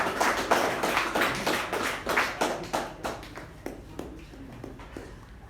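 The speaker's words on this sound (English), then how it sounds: "Give a nice round of applause to Toastmaster Keerthana." Applause rises for Toastmaster Keerthana at a Toastmasters club meeting, a room of people clapping steadily with individual claps standing out, thinning to a few scattered claps near the end.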